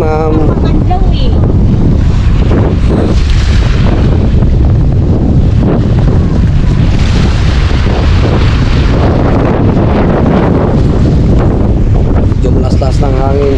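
Strong wind buffets the microphone outdoors, a loud continuous roar and rumble lasting throughout with rough gusty swells, while a voice is faintly heard underneath.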